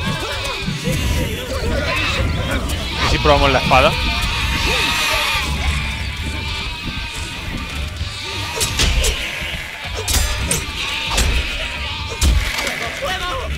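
Sheep bleating in the video game Overlord, several quavering bleats near the start over a busy bed of game sounds, with someone talking during the clip.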